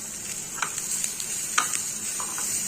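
Big onions frying in a pan for potato rice, a steady close sizzle with a few soft scrapes of stirring over it, no voices.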